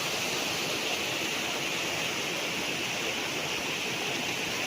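Water from a natural spring flows steadily on a 1.8-hectare farm lot in Lucban, Quezon, an even rushing hiss like a small stream or cascade, constant and unbroken, with no voices.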